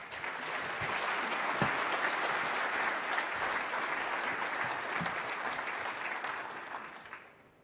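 An audience in Vancouver applauds to welcome Governor Poloz, a steady, full wash of clapping from many hands that holds for about seven seconds before fading out at the end.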